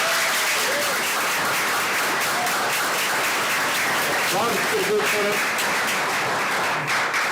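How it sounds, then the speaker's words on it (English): Audience applause at a school board meeting, a dense continuous clatter of many hands filling the room, loud and sustained, with voices murmuring faintly underneath. "let's give this group one more round of applause"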